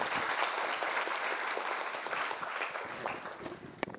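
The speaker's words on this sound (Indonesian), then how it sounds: "Tepuk tangan buat fotografer kita." Hundreds of female religious teachers at a motivational session at Gontor Putri applaud the event photographer, with dense, continuous applause filling the hall at a steady level and a sharp clap standing out near the end.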